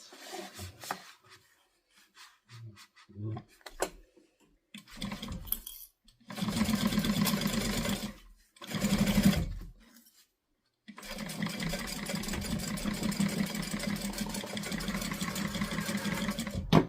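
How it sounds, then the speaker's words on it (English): A sewing machine stitching a quarter-inch seam on a guitar-shaped sewing project, heard as short bursts of whirring motor and needle, then one longer steady run of stitching after a quiet pause. "I'm going to sew this on at a 1/4 seam allowance"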